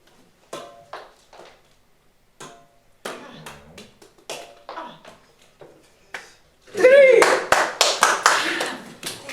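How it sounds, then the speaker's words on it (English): A burst of clapping from a few people breaks out after scattered taps and short spoken phrases, close and brisk. "A round of applause for yourself"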